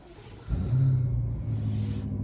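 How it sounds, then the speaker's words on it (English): A BMW M5 Competition saloon engine cranks and catches at about half a second, then settles into a steady, loud idle hum that continues to the end. "and the car comes to life"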